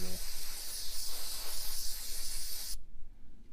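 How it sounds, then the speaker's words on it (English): Carb cleaner sprays steadily from an aerosol can into a BMW M54 double VANOS unit, a loud continuous hiss that cuts off abruptly near the end. "We're going to go ahead and spray that out with some carb cleaner."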